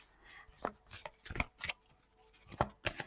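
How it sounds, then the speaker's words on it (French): A deck of oracle cards being shuffled by hand, a series of soft, quick riffling and slapping bursts in separate clusters, close and fairly quiet. "Alors, on va tirer une petite carte. Allez. Alors, elle se mélange super bien."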